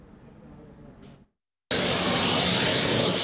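Indian Air Force fighter jet landing on an expressway airstrip: a loud, steady broadband jet roar that cuts in abruptly after a short silence and holds strong, preceded by fainter rumbling.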